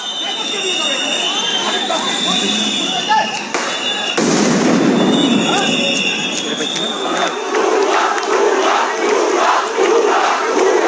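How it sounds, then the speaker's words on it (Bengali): Law enforcement fire sound grenades at a protest march heading toward TSC, with a sharp blast cutting through the constant roar and shouting of a large crowd, plus scattered bangs and voices throughout. "তখন এভাবেই সাউন্ড গ্রেনেড মারা হয় আইন শৃঙ্খলা রক্ষাকারী বাহিনীর"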